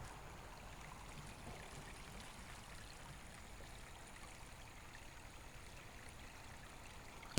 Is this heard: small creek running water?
yes